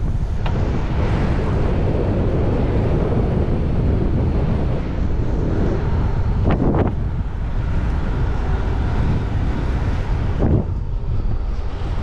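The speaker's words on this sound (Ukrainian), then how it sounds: "Вітер прямо в морду." Strong wind buffeting the microphone of a cyclist riding into a headwind at about 20 km/h, a loud, continuous roar and rumble with a few brief gusty bursts, no speech.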